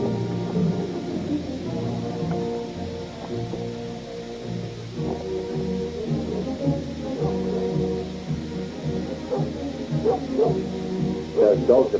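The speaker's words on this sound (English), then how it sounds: "There's dogs about" Several dogs bark in a film scene set in a desert encampment, their repeated woofs and yips rising over a steady musical hum, growing busier toward the end.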